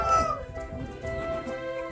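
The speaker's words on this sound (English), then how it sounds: "There's Jimmy the head rooster" A rooster crows on a goat farm, its harmonic call rising over a busy farmyard background with other animal noises, fairly close and moderately loud for about two seconds.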